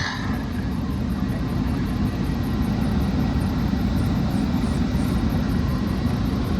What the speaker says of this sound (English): I feel like the blower could be spinning much faster